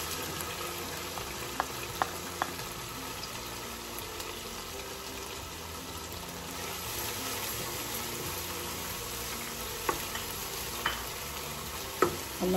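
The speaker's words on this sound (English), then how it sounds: "Now I'm going to add some garlic." Garlic frying in a pan for black-eyed peas and rice, a continuous hissing sizzle with occasional faint clicks and stirring taps. It is close and steady throughout with no voices.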